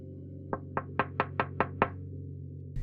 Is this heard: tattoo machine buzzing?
no